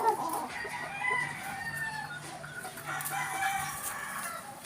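Young Sweater Gilmore gamefowl in a backyard pen make soft clucking and thin crowing calls, scattered and moderately faint, with a mild hum of outdoor ambience underneath.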